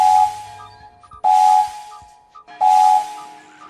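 A steam engine's whistle in a Thomas & Friends video game toots three times in an even rhythm, each short clear blast ringing with a hissy edge against quiet between.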